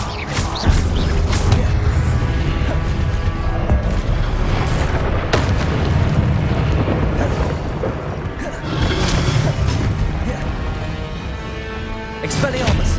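Confringo blasting spell explosions in the video game Hogwarts Legacy, heavy booms and crashing impacts recurring through a loud combat mix, with a voice casting spells aloud.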